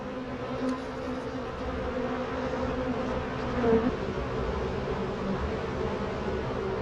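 Honeybees buzz inside a crowded hive of wax comb cells, where a new bee chews through its wax cap. The buzzing is a close, steady drone with no break.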